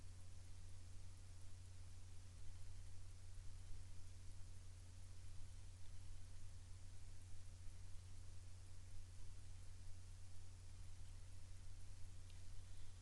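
Floodwater from a flash flood in Australia, a small creek behind a parking lot swollen into a raging river, rushes past as a steady, faint, hissing wash with a low rumble underneath and no pauses.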